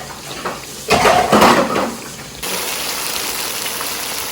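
Masala roasting in a pan for matar paneer: a burst of spoon stirring and scraping, then a steady, even sizzle that carries on alone.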